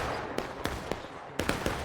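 Cannon blasts from artillery in a large Civil War multiplayer battle game, several sharp distant reports spaced irregularly over a steady rumble of background battle noise.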